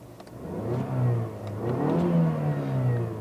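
A 2018 Mazda6 2.5T Signature's turbocharged 2.5-liter Skyactiv-G four-cylinder revs steadily up and down, its low engine note rising and falling close by, with no talking.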